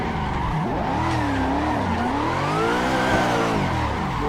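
A Mazda Miata drifting in Assetto Corsa gives sustained tire squeal over a revving engine whose pitch swoops up and down as the car slides. The sound is steady and continuous, with no voices.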